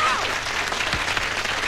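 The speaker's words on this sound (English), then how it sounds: "Give her a round of applause too" Studio audience applause on a 1988 TV talent show, a steady wash of clapping filling the short moment from start to finish.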